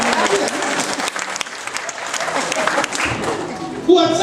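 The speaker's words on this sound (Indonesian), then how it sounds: "berikan tepuk tangan yang meriah" Dense, sustained audience applause fills a church sermon by a pastor in Ontario, California, a steady wash of many hands clapping close by, with voices mixed in and a brief louder swell near the end.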